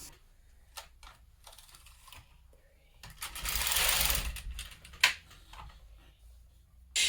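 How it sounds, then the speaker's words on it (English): A knitting machine carriage pushed across a row while making an easy hemmed brim hat: scattered mechanical clicks, then a louder swelling whirring rasp as it travels, ending in a sharp clack. "Push them back and the carriage will knit across."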